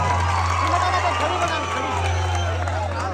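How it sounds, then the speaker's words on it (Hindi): A large outdoor crowd cheers and claps for a Chhattisgarhi film star cast on stage, with noisy shouts and whoops over a constant low electrical hum, and voices mixed into the din throughout. "एक बार जोरदार ताली बजा के"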